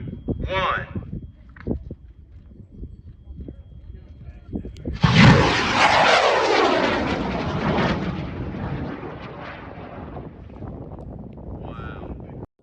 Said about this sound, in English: we're going to shoot Mike's rocket in 5, 4, 3, 2, 1